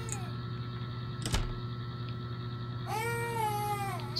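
A cat meows once near the end, a clear rising-falling call over a steady low hum, preceded by a brief clatter.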